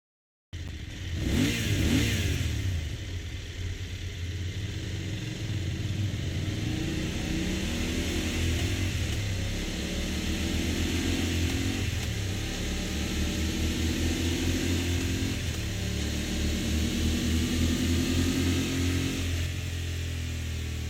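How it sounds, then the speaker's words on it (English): A BMW F900 GS motorcycle engine with its factory Akrapovic exhaust starts up with a brief rev, then settles into a steady, throbbing idle heard up close for about twenty seconds. "And now let us listen to the Akrapovic that comes factory installed into the F900 GS."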